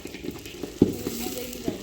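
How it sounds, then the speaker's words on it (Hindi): Tempering spices sizzle in hot oil for a tadka, a short crackling fry with a sharp spluttering burst partway through, close by, with a voice faintly present. "जय महाकाल विश्व प्रचलित छौंक ला दिया"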